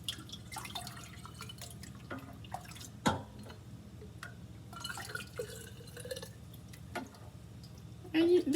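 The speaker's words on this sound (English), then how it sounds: "I'm going to use a ladle like this and easily just ladle it on in." Homemade lemon balm tea being ladled into a cup, with soft drips and a short pouring trickle near the end, fairly close and quiet against light background hum.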